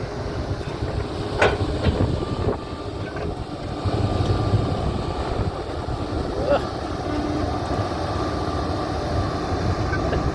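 A Kobelco SK200-10 excavator of about 21.7 tonnes with 22,000 hours runs while dredging a reservoir in hard soil. Its diesel engine gives a steady, loud, close rumble with occasional knocks and scrapes.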